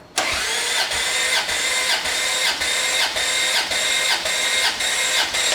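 A Ferrari F355 engine cranks over on the starter during a cylinder compression test, a steady rhythmic whirring churn with regular pulses about every half second, loud and close, running the whole time without an ignition catch.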